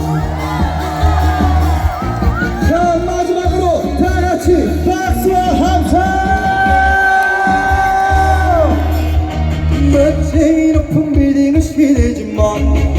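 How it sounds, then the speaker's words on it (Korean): An outdoor summer music festival audience in Jangseong County cheers and applauds, with loud crowd shouts and whoops swelling over live music with a sustained, steady roar. "이번에는 장성 시민 여러분 박수와 함성"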